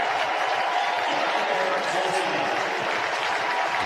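Baseball crowd applauding Cardinals catcher Yadier Molina as he comes up to pinch-hit, a steady, sustained wash of clapping from a large stadium audience with no letup.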